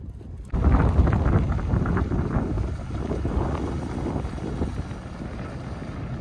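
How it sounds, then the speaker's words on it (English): Strong wind gusts batter the microphone at a lakeside beach during hot weather, producing a loud, continuous rushing roar that swells after a brief quiet start and persists throughout. "Coco, are you enjoying the windstorm?"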